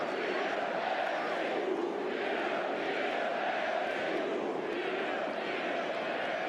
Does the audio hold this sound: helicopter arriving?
no